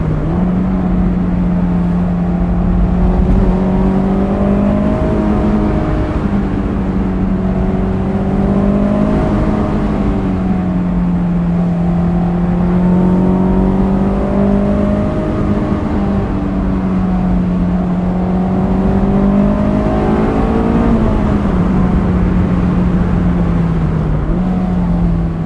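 A stock 2005 Honda S2000 engine hums steadily from inside the car while driving, its pitch rising and falling through revs with crisp downshift blips, loud and continuous with no talking.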